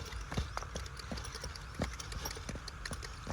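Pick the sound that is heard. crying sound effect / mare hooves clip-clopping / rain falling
mare hooves clip-clopping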